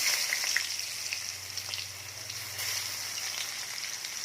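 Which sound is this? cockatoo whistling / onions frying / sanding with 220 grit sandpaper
onions frying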